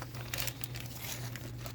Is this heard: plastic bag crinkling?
yes